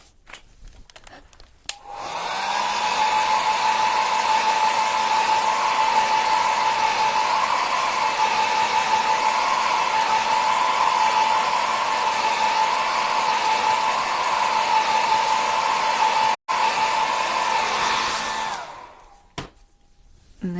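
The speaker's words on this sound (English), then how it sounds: "Hit it with the blow dryer." A blow dryer runs to dry acrylic paint, a loud steady whirring drone with a faint pitch wobble that starts abruptly, holds for about sixteen seconds with one brief dropout, then cuts off.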